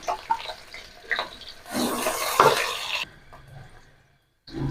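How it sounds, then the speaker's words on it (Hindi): Chopped onions tipped into a hot pan of oil while cooking sawaiyan, giving a burst of loud close sizzling and stirring for about a second before it settles to a quieter fry. "अब इसमें हमने प्याज डाल देना, प्याज डाल के भून लेते हैं।"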